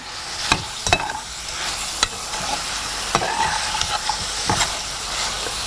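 Pallipalayam chicken sautés in a pan over a steady low sizzle, with sharp clinks and scrapes from a stirring spoon breaking through at irregular intervals; no one speaks.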